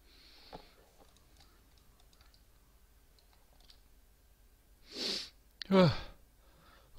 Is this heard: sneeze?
yes